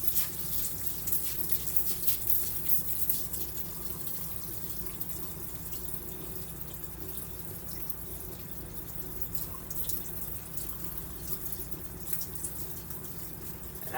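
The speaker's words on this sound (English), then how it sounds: "I'm not using hot water, just cool water to rinse my rice." Cool tap water runs steadily while rice is rinsed in a kitchen sink, a continuous close splashing and trickling wash with faint drips, heard alone without talk.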